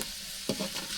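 Native duck meat sautéing in a pot over a village clay stove, a steady close sizzle with a brief stirring scrape midway, no voices.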